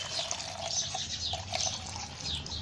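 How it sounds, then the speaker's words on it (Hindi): Water being poured into a container holding oleander cuttings, a soft, close trickle and splash with small irregular drips, fairly quiet, with faint birdsong in the background. "इतना पानी मैंने डाल दिया।"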